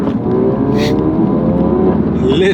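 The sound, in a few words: tuned Ford Focus RS turbos spooling with blow-off valve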